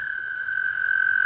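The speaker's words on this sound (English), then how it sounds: "Something I really enjoy about these toads singing" American toads trilling at night: one steady, continuous high-pitched musical trill held without a break, clear and fairly close, with no voices.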